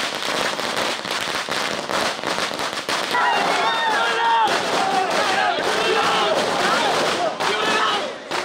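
Firecrackers set off by fans outside a cinema in Mandya, a rapid barrage of loud crackling bursts over a cheering, shouting crowd, continuing throughout.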